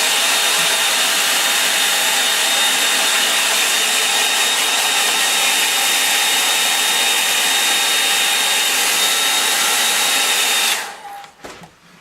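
A hair dryer blows steadily and loud at close range over a line-and-wash painting with a constant whine for about eleven seconds, then cuts off abruptly and leaves quiet handling noises.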